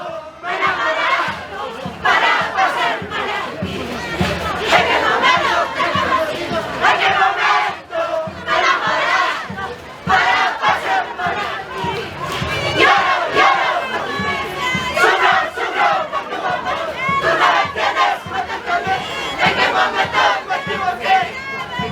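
At the Acraquia 2023 folk dance contest final, a large audience cheers, whoops and shouts without pause for over twenty seconds, a dense, loud, lively crowd roar.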